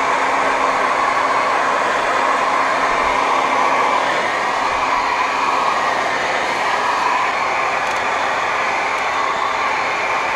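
Heat gun blowing continuously on window tint film on a Nissan 350Z, a loud, steady airy roar with a faint hum running unbroken throughout and no talking.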